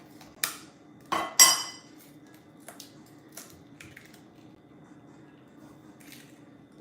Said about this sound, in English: I'm going to crack the eggs